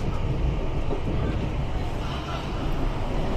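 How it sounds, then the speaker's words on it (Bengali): A passenger express train bound for Malda rumbles along from inside the carriage, a loud steady low roar with faint rhythmic clatter, and some talk mixed in. "one three zero five three up পুলিক express তাতে করে আমরা যাচ্ছি মালদা"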